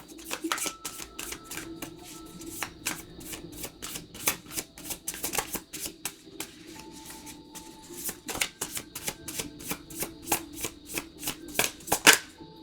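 Tarot cards being shuffled and drawn during a reading, a steady run of crisp riffling flicks and taps, close and dry, with occasional faint voice in the background.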